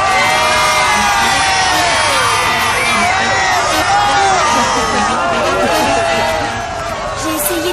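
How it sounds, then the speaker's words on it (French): A large crowd cheers and shouts loudly and continuously after a street football match, with children's excited yells mixed into the roar. "Applaudissons nos valeureux champions et laissons-les se reposer."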